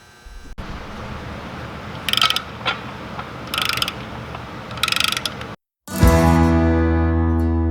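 Snap-on torque wrench tightening clutch bolts on a Ford 1700, with several short bursts of quick ratcheting clicks, close, followed by a brief silence and then a loud mechanical whirring hum.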